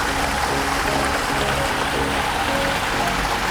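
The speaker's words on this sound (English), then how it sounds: "I like the waterfall" Hotel waterfall pours steadily nearby, a constant loud rushing of falling water with no change in level and no voices.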